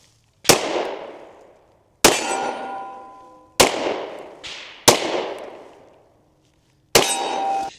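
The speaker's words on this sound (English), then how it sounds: "bear with the gunfire in the background" Gunfire at an outdoor shooting range: five sharp, loud reports spaced about one and a half seconds apart, each ringing out with a metallic, reverberant decay before the next shot.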